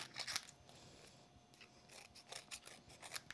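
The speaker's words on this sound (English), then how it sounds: "keep your scissors at an angle so you don't catch the edge of that frame" Scissors snip and trim paper around the edge of a card frame in a quick run of short crisp cuts, close and fairly quiet, with no voices.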